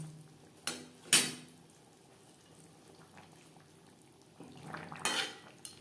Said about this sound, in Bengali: এখানে আমি ছ পিস মাছ অ্যাড করছি আর দু পিস আমার অন্য কাজে লাগবে